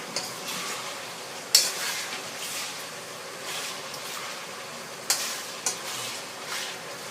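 Sugar is stirred into hot frying oil for sesame-topped fried pork, giving a steady close sizzle and hiss with a few sharp utensil clicks against the pan.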